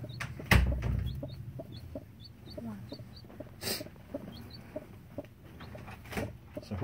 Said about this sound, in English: Is that a little chicken?